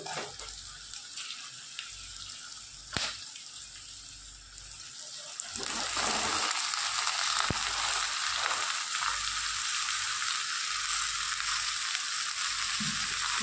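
Chopped ridge gourd tipped into a hot pan bursts into a loud, continuous sizzle, with quieter kitchen sounds before it and frying that holds steady to the end.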